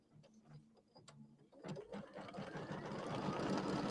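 A sewing machine stitches to tack down an appliqué on an Easter settee pillow, starting with a few short, hesitant bursts, then running steadily and growing louder after a brief pause, close by and alone.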